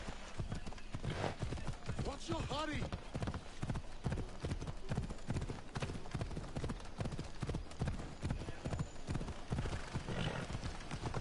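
Horse hooves clip-clop steadily at a quick trot in the video game Assassin's Creed Odyssey, close and continuous, with a brief whinny and someone talking over them.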